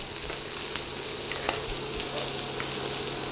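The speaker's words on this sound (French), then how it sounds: "les oignons ont commencé à caraméliser" Onions caramelizing in a pan, a dense steady sizzle with faint occasional pops, close and even throughout.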